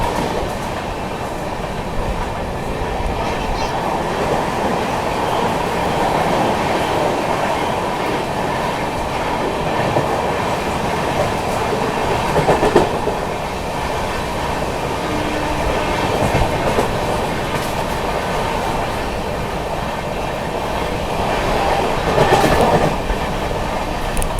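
The Seemanchal Express runs through Etawah Junction without stopping, heard from on board as a loud, continuous rumble and roar with faint rhythmic wheel clatter across the rails, steady for the whole stretch and free of talk.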